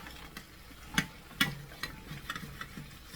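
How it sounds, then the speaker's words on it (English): Liquid deglazing browned bits from the bottom of a skillet in a one-pot chicken and vegetable dish, heard as a faint steady sizzle punctuated by sharp scraping and tapping of a utensil against the pan. "So see, we're just deglazing some of that brown stuff that got on there"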